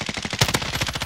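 Rapid automatic gunfire in the video game Warzone, a fast burst of sharp repeated shots lasting about a second, close and loud.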